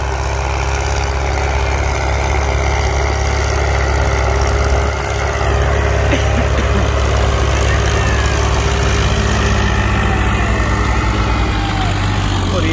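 A 55 HP diesel tractor engine runs at a steady idle nearby, a loud continuous low throb with a constant mechanical hum.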